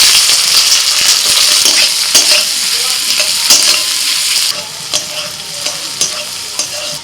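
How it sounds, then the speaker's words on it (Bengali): Onions frying in hot oil with cloves, cardamom and cinnamon sizzle loudly and steadily up close, with frequent scraping and clacking of a stirring spoon against the pan. "পেঁয়াজটা একটু ভেজে নিয়ে"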